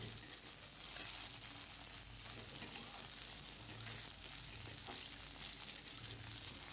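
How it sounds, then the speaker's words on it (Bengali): Bitter gourd fries in hot oil in a wok, a steady close sizzle and crackle that holds without letup, with no talk over it. "আগে আমি উচ্ছেটা ভেজে নিচ্ছি"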